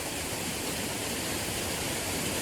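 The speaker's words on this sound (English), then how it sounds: "How could I forget about this waterfall?" A waterfall roars as a dense, even rush of water, loud and constant, with no other sound.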